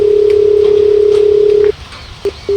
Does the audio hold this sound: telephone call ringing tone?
yes